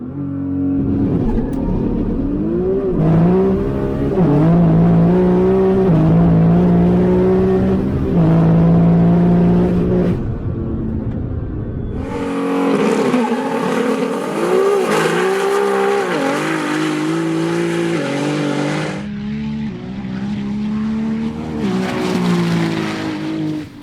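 A Nissan GT-R R35 drag car in rear-wheel drive revs hard and accelerates, its loud engine climbing through repeated surges with tyre squeal and a crowd-like roar in the middle of the run.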